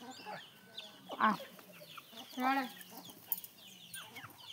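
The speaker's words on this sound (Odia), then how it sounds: "ବହୁତ ବଦମାସ ଏଇ କୁକୁଡ଼ାଟା।" A rooster or hen lets out a few short, close clucks in two bursts, with quieter farmyard sounds around them and no talk.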